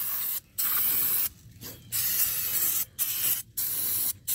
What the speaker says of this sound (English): all you want to do is just spray it down as much as possible, get up in any little crevice area